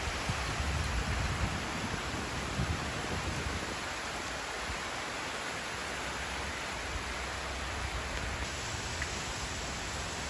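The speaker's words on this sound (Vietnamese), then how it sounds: "giờ trời chuyển mưa mịt mù hết rồi" Steady, dense rain hiss settles over a countryside road, an even wash of noise that holds at the same level throughout with no voices.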